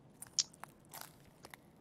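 Footsteps crunch over broken glass in Escape from Tarkov, a handful of faint, brittle crackles and crisp ticks scattered irregularly across a quiet background, with no talking.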